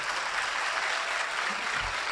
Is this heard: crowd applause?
yes